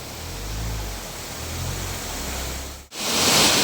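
Steady broadband rush of a river pouring over a dam with no lock gate, loud and continuous throughout, brief dip near the end before the roar swells again.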